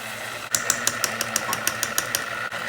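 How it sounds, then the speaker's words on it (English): An electric stand mixer whirs through Nutella cheesecake batter in a bowl, a steady motor hum broken by quick regular clicking ticks, close by, ending as the machine winds down. "So this is mixing, and now we're gonna stop the machine"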